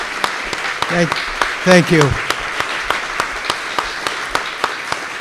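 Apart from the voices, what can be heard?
audience round of applause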